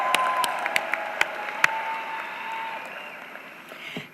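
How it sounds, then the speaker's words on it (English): Graduates at a university spring commencement ceremony applaud in a large hall, a steady moderate clapping with a few sharp individual claps, fading toward the end. "I think you should applaud yourselves."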